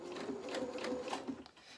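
A sewing machine stitches a curved edge in fabric, running in a steady rapid hum with rhythmic pulses of needle strokes, close and alone for under two seconds.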